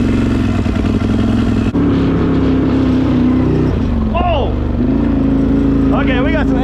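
Can-Am Outlander 840 ATV engine revving hard while being driven, a loud close roar that rises and falls in pitch with throttle changes, with a voice briefly over it.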